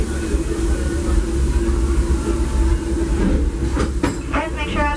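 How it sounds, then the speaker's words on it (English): Disneyland Railroad excursion train pulled by the Fred Gurley steam locomotive rumbles loudly and continuously up close, with wheel clatter and brief metallic squeals near the end, and a voice faintly audible beneath. "welcome aboard the Disneyland Railroad"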